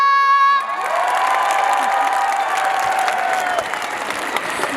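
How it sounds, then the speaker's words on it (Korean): A large outdoor crowd at a civic-day celebration concert claps and cheers loudly, with shouts and whoops over sustained applause after a short sung or tonal note at the start. "한 크게 박수와 함성!"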